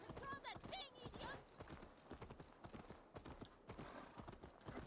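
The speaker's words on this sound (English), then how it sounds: "Beautiful horse." Horse hooves clip-clopping in the Assassin's Creed Valhalla video game, a steady rhythmic trot close by, with someone talking over it throughout.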